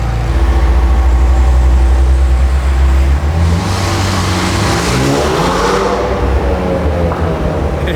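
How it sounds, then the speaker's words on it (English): McLaren 720S with a modified exhaust revving hard nearby, a loud, steady roar that climbs and falls in pitch through repeated throttle blips, with a deep rumbling idle underneath and no talking. "This is, in my opinion, the best sounding exhaust I've heard on any 720 before"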